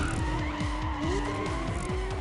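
In Need for Speed ProStreet, a car struggles for traction in a burnout and its tires squeal and skid continuously and loudly over a rough, pulsing engine roar.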